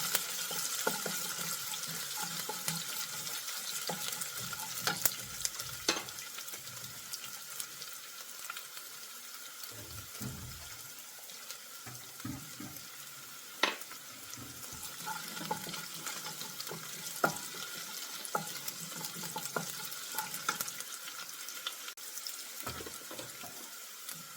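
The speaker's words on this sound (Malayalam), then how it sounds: "ഇഞ്ചിയും പച്ചമുളകും വെളുത്തുള്ളിയും ആ പച്ചമണമൊക്കെ ഒന്ന് പോയി കിട്ടോളം നമുക്ക് നിരത്തി കൊടുക്കാം." Ginger, green chilli and garlic sauté in a pan with a soft, steady hiss, broken now and then by faint clinks and taps of a spoon, and no one speaks.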